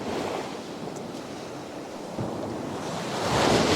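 Sea waves washing onto a wide sandy beach in Mersin, Turkey, in winter, a continuous broad roar with a surge swelling louder near the end, mixed with some wind rumble.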